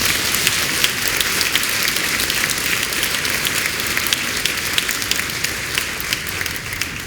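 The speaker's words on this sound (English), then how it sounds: "please give them another round of applause" Applause from the audience at an MLK celebration at MIT for student speakers and a planning committee: a steady, even wash of many hands clapping, moderately loud and somewhat distant, sustained throughout with no talking.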